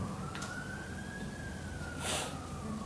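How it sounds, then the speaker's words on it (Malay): A distant emergency siren sounds under a broad background hiss, with a slowly rising and falling wail that stays faint and continuous, and a brief burst of noise partway through. "Gerun tak bunyi siren?"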